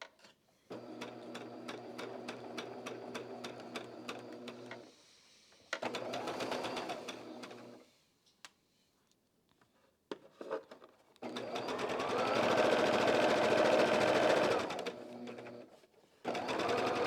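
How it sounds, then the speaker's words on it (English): A sewing machine stitches quilt pieces together in several bursts, a fast steady mechanical whir with rapid needle clatter, separated by short pauses and faint handling sounds. "I can sew these 2 together."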